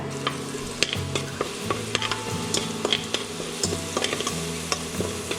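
A tablespoon of ginger garlic paste fries in oil for prawn pulao, crackling with a steady sizzle while a spoon repeatedly scrapes and taps the pan in an uneven rhythm; close and fairly loud, with nobody speaking.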